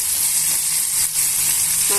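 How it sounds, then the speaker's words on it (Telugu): Eggplant chutney hits a hot tempering and sets off a loud, close, hissing sizzle that runs continuously with a brief dip in the middle, and no one speaks. "పచ్చడి అంతా కూడా ఈ పోపులోకి వేసేసుకోవాలి"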